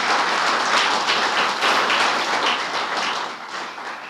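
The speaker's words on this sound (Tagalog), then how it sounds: "Malakas na palakpak para kay Lord." Loud, dense applause from a church congregation fills the room, steady and sustained before tapering slightly toward the end.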